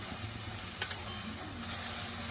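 A coconut vadi mixture with almond slivers and cardamom powder being stirred in a hot pan, a soft, continuous sizzle and hiss with faint scraping strokes, quiet and close, with no talk.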